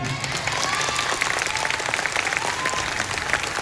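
A large audience at an award show in Bhagalpur claps loudly and continuously throughout, a dense, even wall of applause with faint voices mixed in.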